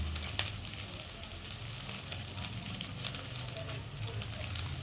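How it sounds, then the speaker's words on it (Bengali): Masala of chopped tomato, salt, turmeric and chili powder fries in a pan, giving a steady crackling sizzle with faint stirring scrapes, low and close, without talk. "মশলাটা ভালোভাবে কষিয়ে নেবো"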